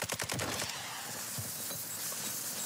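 A quick burst of automatic gunfire in a shooter video game opens the sound, several rapid shots that then give way to a softer stretch of game noise.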